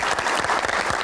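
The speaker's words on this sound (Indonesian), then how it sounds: "Kita berikan tepuk tangan yang paling meriah untuk rekan-rekan panelis yang menemani kita pada malam hari ini." Brief, loud burst of studio audience applause for the panelists on a Q&A talk show, dense clapping filling the whole moment.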